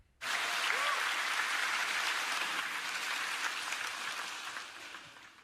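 An audience at a church gathering breaks into sudden, full applause that starts sharply and holds steady for about five seconds, then begins to thin slightly toward the end.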